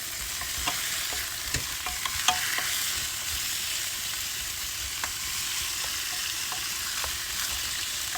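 Chicken wings sizzle and fry steadily in a pan while a utensil stirs them with intermittent scraping clicks, close and continuous, with no talking.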